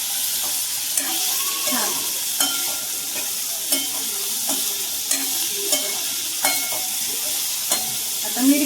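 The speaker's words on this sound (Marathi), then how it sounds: "आता हे सगळं परतून घ्यायचं व्यवस्थित" Ridge gourd sautés in a pan for dahi dodka: a steady sizzle carries regular spatula scrapes and taps against the pan, with a single brief spoken word.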